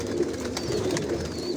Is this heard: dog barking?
no